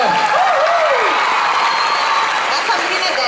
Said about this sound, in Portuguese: Palmas pra Júlia, galera.